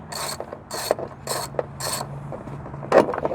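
A ratchet socket clicks in quick bursts while loosening a bolt during 3rd-row seat removal in a 2019 Ford Flex SEL, four sharp ratcheting runs followed by a final louder clack, close and clear.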